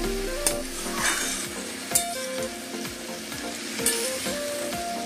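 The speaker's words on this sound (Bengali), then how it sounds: "তো এটাকে আমি একটু ভাজা ভাজা করে নেব, তারপরে মশলা দেবো আমি এর মধ্যে।" Ripe cucumber pieces sizzle steadily in a hot pan, with periodic scraping strikes of a stirring spoon, while a tune plays in the background.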